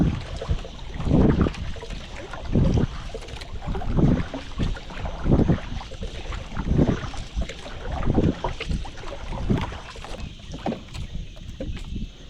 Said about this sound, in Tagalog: Sagwanan ko muna papunta doon